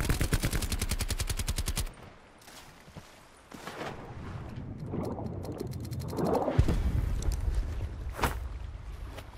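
Rapid automatic gunfire from Call of Duty Blackout rattles loudly in a fast burst, then quieter scattered shots and mechanical clatter follow, with another sharp crack near the end.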